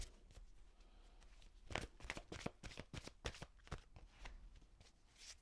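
Oracle cards being shuffled by hand, a run of crisp riffling and slapping bursts that grows denser and louder midway, close and alone with no talk.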